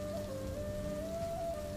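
Rain falls on an old house with a leaking roof, a steady close hiss with a faint tonal hum running through it and no voices.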